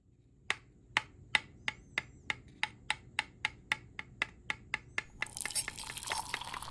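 Sharp, evenly spaced taps knock excess powder out of a resin model car tub for a Honda Integra DC5 kit, about fifteen crisp close knocks in steady rhythm, followed by a brief rustling wash at the end.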